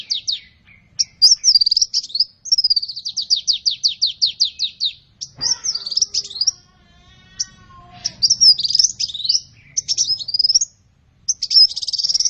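A small nectar-feeding bird with a thin beak chirps close and clear in rapid high trills and short bursts, separated by brief pauses, with a faint lower rustle partway through.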